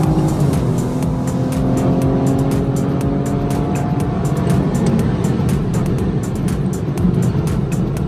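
A BMW F30 340i with an xHP stage 3 transmission tune revs hard and upshifts, a loud, continuous engine roar with a falling pitch as the gear changes, close inside the car.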